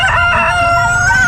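A rooster crows loudly and close by at a pet market in Bocaue, one sustained call with no voices.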